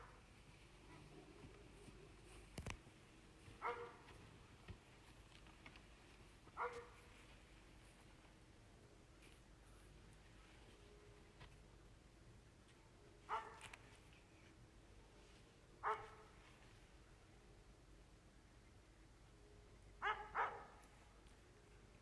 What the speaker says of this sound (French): au-delà du aboiement du chien,